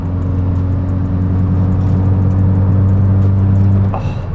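A Volkswagen MK6 GTI with tuned suspension drives along, a loud, steady engine drone and road rumble heard from inside the car, holding level before easing off near the end with a brief knock.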